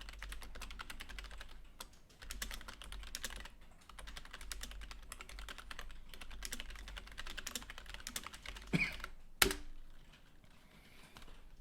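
Typing on a computer keyboard during spreadsheet work, a quick irregular stream of close, light key clicks with occasional pauses and a couple of sharper louder taps near the end.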